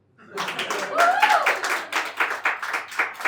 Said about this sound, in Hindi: बजा सकते थे ताली।